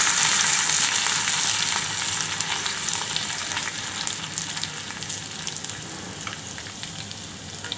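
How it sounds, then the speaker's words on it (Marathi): Ginger-garlic paste fries in hot oil with a loud, close, steady sizzle and crackle. It is continuous and eases slightly in strength toward the end. "तेल गरम करून घेतलेलं आहे. आलं आणि लसूण याची पेस्ट मी याच्यात टाकून घेतलेली आहे."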